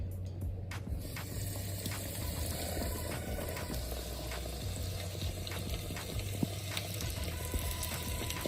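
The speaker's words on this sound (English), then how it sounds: "and we're going to start frying some chicken." Steady, busy sizzling of floured chicken breast frying in hot oil, with a crackling hiss throughout and a few sharp pops and clinks.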